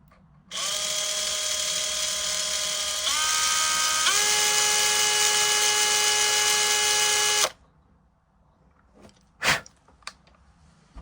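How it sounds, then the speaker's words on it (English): A power drill whirs steadily at high pitch for several seconds, briefly shifting speed, then stops; a few faint clicks and a knock follow, during repair of an Action Man or G.I. Joe figure. "But it's fine if you've got a drill that you can control."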